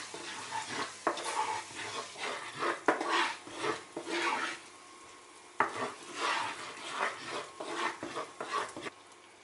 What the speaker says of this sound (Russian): Муку обязательно хорошо прожариваем. Стараемся все время помешивать, так чтобы мука не пригорела.